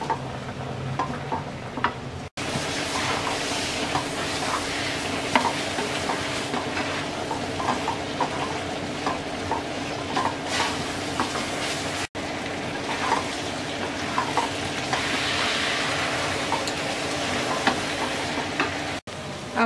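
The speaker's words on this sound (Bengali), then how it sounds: "আমগুলোকে মশলার সাথে ভালো করে মিশিয়ে নিয়ে মিডিয়াম লো আছে কিছুক্ষণ পরপর নেড়ে নেড়ে আম নরম" Raw mango pieces cook in spices on medium-low heat, sizzling steadily while a spoon stirs them every so often, with scattered scrapes and clicks over a continuous fry and no talk.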